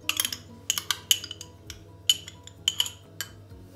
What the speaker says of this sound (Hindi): मायोनीज़ डालेंगे